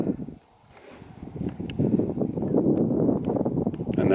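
Cold wind gusting steadily across an open microphone under cloudy skies, a low broadband roar that drops briefly near the start, then builds and holds loud and rough for the rest.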